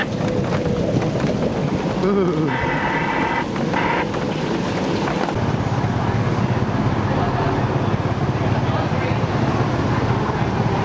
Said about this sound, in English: going back to the hotel on a tuk-tuk